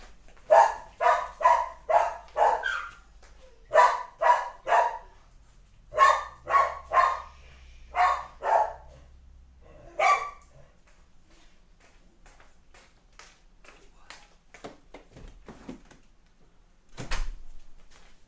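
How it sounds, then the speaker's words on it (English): Several dogs bark indoors in rapid clusters of loud barks, which then taper off into scattered quieter ones, followed by a thud near the end. "Sorry about the dogs."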